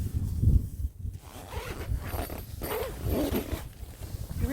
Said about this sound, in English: when you unzip the tent